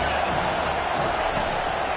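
A stadium crowd at an SMU versus TCU college football game roars in a dense, continuous wash of cheering, with a commentator talking over it.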